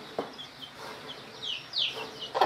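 A mother hen on a small farm calls her chick with soft, intermittent clucks at moderate distance, mixed with faint bird chirps over quiet background noise.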